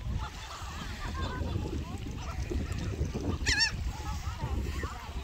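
Seagulls call on a beach at Dauphin Island, Alabama, several short squawks and one sharp, louder cry mid-way, over steady wind and surf noise with faint voices nearby.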